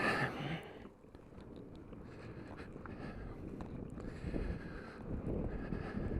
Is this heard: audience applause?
no